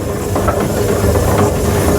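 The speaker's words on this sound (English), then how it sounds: "a ride on a 1902 Indiana-built steam engine" A 1902 Indiana-built steam engine hisses in a loud, steady rush, with rumbling machinery churning underneath throughout.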